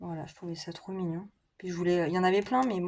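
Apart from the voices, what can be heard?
None of the usual background noises is heard.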